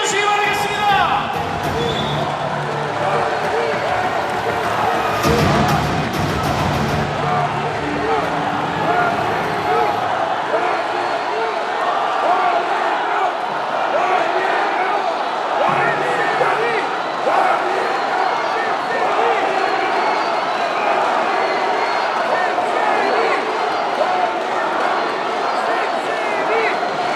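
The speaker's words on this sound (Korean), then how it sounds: "원희룡 당대표 후보님을 모시겠습니다. 큰 박수로 맞이해 주시기 바라겠습니다." Sustained applause and cheering from a large crowd at a party convention rally welcoming a party leadership candidate, dense and steady for the whole stretch with no one speaking over it.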